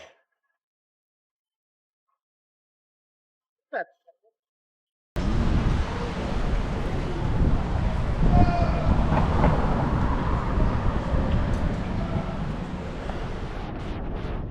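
After a few silent seconds with a brief blip, a loud New York subway train rumbles continuously, rails rattling and air roaring close by.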